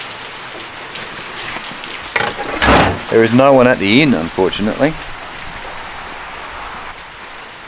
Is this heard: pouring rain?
yes